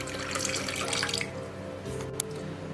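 Water running from a tap into a container of tamarind set to soak in one cup of water, a steady close splashing stream with a brief louder splash near the end.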